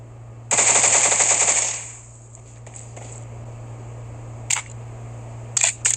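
Gunfire from the mobile battle-royale game PUBG Mobile, a loud rapid burst of automatic shots lasting just over a second, followed by quieter ambient game sound and a few short sharp clicks and bangs.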